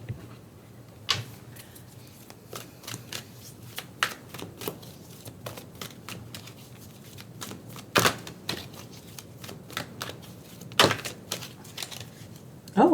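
Psychic Tarot Oracle cards are shuffled and drawn in soft, quick riffling flutters, with a few sharper snaps of cards being handled. Quiet background talk can be heard underneath.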